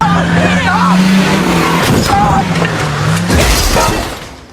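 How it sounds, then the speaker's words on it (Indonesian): A car in a film scene roars close by and strikes a man, with engine drone, a sudden crash and rattling impacts, overlaid by loud dramatic music and sound effects. "Tanpa diduga, mobil tersebut menabrak si kopet."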